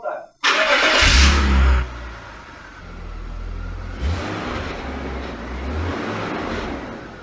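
A BMW E46 330Ci engine cranks and catches with a loud burst of revving, then settles into a steady rough idle, with a second blip of revs partway through and people talking nearby.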